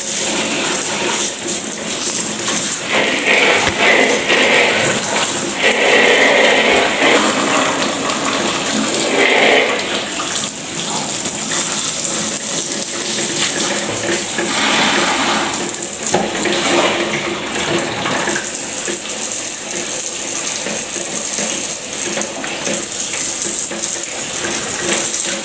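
Water sprays steadily and forcefully onto built-up ice inside a one-door refrigerator freezer, a continuous rushing hiss that runs unbroken and close.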